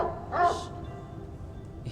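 Dog barking in a horror video game, one short close bark followed by low ambient game hum and a faint later sound.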